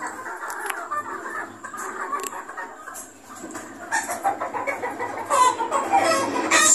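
A Red Kelso gamefowl rooster clucks on a gamefarm, with repeated short clucks and calls growing busier and louder toward the end over faint farmyard background.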